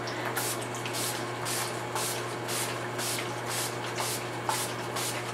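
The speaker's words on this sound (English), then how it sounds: "To set my entire face, I'm going to be using the Urban Decay All Nighter Setting Spray." Urban Decay All Nighter setting spray is misted onto a face in a series of short, regular pumped hisses, close and crisp, repeating about twice a second over a steady background hum.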